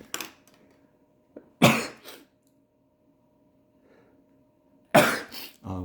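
Two sharp, explosive sneezes from a cold allergy, one after another with a pause between, close to the microphone in an otherwise quiet room.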